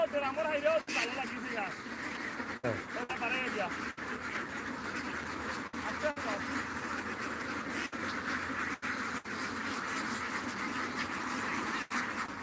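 Thousands of ducks on a big farm in Sunamganj murmur and quack as a dense, continuous chorus, steady and moderately close, while someone talks throughout.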